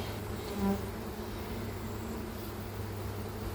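A steady, close buzzing of many honey bees at an open hive during inspection hums continuously, with a brief louder swell as one passes near.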